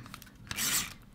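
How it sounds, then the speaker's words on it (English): Sandpaper rasps briefly along the paper edges of a handmade mini album, a short close scratchy stroke. "take some sandpaper and kind of sand those edges like so"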